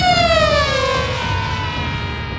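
A bullet-shaped 3D-printed drone with four forward-facing propellers passes with a loud, piercing shriek whose pitch slides steadily downward, heard close and alone.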